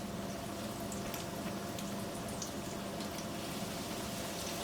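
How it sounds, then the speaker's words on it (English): Breaded chicken nuggets frying in a pan of hot oil, a steady soft bubbling and crackling sizzle that holds even and close throughout, with no talking over it. "This is going to bubble up because chicken has water in it."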